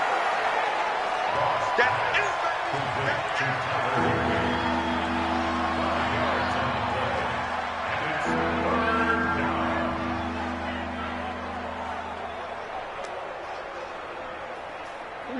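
A stadium crowd in the Madden 20 football game, Rams against Cardinals, roars as a steady wash of noise that swells for a big third down, under continuous commentary with horn-like tones sounding partway through.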